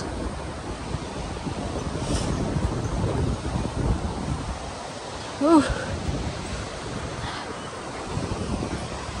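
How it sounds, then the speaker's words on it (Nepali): Cool wind blows steadily outdoors, a continuous broadband rush with gusty swells throughout, and a brief voice cuts in near the middle. "यता त हावा चाहिँ शीतल लाग्छ"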